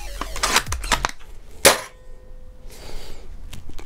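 A single loud, sharp, snappy crack of an airsoft VSR/SSG10 sniper rifle shot stands out over faint background rustling and clicks.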